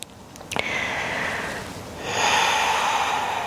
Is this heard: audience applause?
no